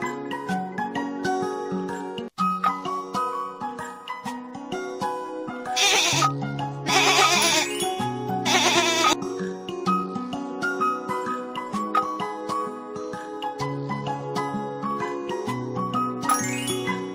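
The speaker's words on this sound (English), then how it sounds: "Goat." A goat bleats repeatedly, several wavering cries rising above a backdrop of tinkling bell-like jingles, fairly close and clear with no talking.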